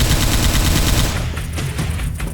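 M60 machine gun firing in the video game Left 4 Dead 2, a loud continuous burst of rapid automatic gunfire that thins out toward the end.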